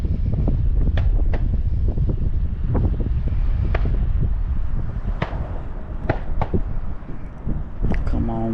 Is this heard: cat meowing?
no